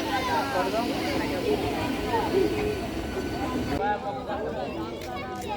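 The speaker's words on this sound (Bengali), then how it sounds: "এবারে লোকাল ট্রেনটি যাবে হচ্ছে সাঁতরাগাছির দিকে" A local train at Padmapukur rail station in Howrah rumbles and clatters steadily with metallic squeals throughout, and a voice can be heard faintly in the background.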